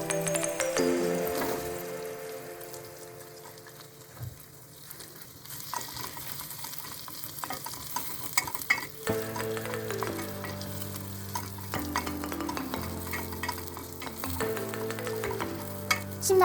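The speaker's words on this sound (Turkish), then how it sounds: "Şimdi soğanları ekliyoruz arkadaşlar." Onions frying in a pan with a soft, steady sizzle, heard under a louder backing of music with sustained tones and plucked notes.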